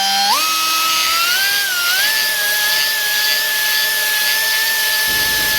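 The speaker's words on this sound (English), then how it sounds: "I got a little deburr on my old die grinder here. And I'm just going to start opening this up" An old die grinder with a deburring bit opens up a radius on a Buick suspension part, giving a loud, close, high-pitched whine that rises in pitch as it spins up, then holds steady before cutting off.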